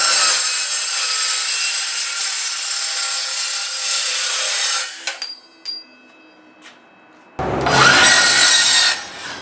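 Hilti SCM 22-A 22V cordless circular saw cold-cutting a metal tube, a loud steady grinding whine for about five seconds that winds down, a quiet pause with faint clicks, then a second loud cutting burst near the end.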